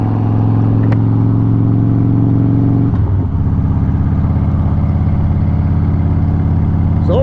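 A 2008 Harley-Davidson Softail motorcycle engine running steady and loud at close range, a low throbbing idle that shifts slightly in tone partway through, with no talk over it.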